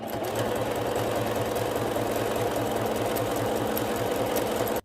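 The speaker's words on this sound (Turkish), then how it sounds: "Yan dikişlerin overlock'unu da gidiyorum." An overlock sewing machine finishes the side seams of a ruffled pillow cover, giving a steady, fast, rhythmic mechanical whirring close up that runs continuously and stops abruptly at the end.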